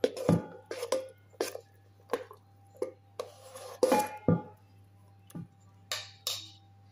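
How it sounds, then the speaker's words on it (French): A wooden spoon stirs chocolate-chip cake batter in a saucepan, giving a run of regular scraping, knocking strokes roughly every half second, close and fairly quiet, with no talk. "On touille avec une cuillère à soupe ou une cuillère en bois."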